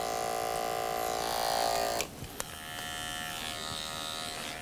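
Electric hair clippers run with a close, steady buzz during a short clipper haircut, then the pitch drops and steadies as the clippers work closer to the head; no talking.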